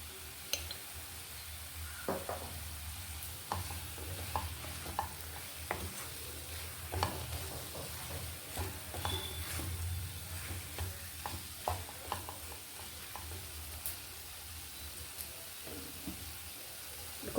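Potatoes fry in a pan for a potato curry, giving a faint, steady sizzle with frequent soft scrapes and taps of a spoon stirring, and no voices.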